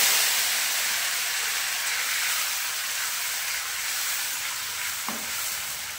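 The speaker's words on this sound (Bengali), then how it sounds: "প্রথমে তেল গরম করে নিয়েছি, তাতে দিয়ে দিয়েছিলাম 5 ফোড়ন, দিয়ে দিলাম কুচানো পেঁয়াজ" Chopped onions hit hot oil seasoned with panch phoron five-spice and sizzle loudly in a constant close hiss, with a single brief knock near the end.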